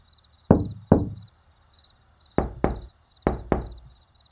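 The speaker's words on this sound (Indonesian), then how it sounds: "Tapi ketukan itu terus terdengar, semakin lama semakin kencang." Sharp knocks on wood come in three spaced pairs, each a crisp hollow rap, close and clear against near silence.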